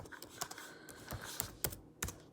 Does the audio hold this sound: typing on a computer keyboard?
yes